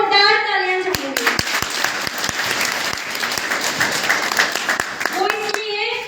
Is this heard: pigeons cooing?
no